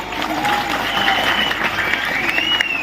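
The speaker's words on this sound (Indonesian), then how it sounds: "Tepuk tangan untuk panitia." An audience applauds the organizers at an Islamic religious gathering in Sutapranan, Dukuhturi, Tegal: a dense, steady patter of clapping with crowd murmur and voices running through it for a few seconds.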